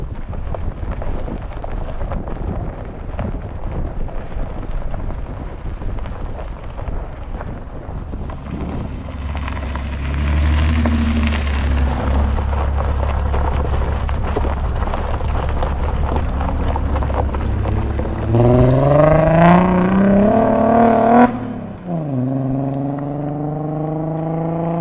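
A 2005 Porsche Cayenne with a V8 and a manual transmission, built up safari style, drives with loud wind buffeting and road rumble, then engine revs rise and fall through gear changes near the end.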